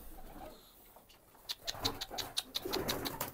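Colourful nun pigeons coo and flutter in a coop, with a run of repeated soft calls and rustling that grows busier toward the end; nearby and moderately loud.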